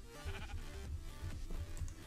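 A Minecraft sheep bleats in a run of short, wavering cries that repeat rhythmically, clear and moderately loud with no talking over them.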